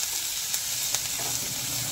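Onions sauté in a pan with a dense, constant sizzle heard up close. A few faint spatula ticks sound against the pan as they cook toward brown.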